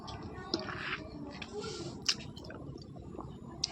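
Close, wet chewing of a sweet snack bought at a market, soft squishy mouth sounds with a few sharper bites, quiet and continuous with no speech over it.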